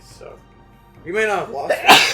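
A single sharp sneeze from a person among players at a tabletop role-playing game session, loud and close, following quiet moments and brief talk.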